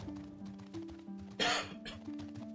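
A single sharp cough bursts out, loud and close, over quiet background game music with a steady low tone.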